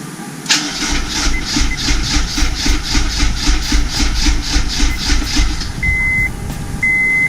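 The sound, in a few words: Honda S2000 engine cranking over and starting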